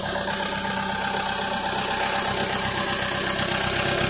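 A steady diesel engine of an airport belt loader idles close by, a constant low mechanical rumble with faint knocking and no voices.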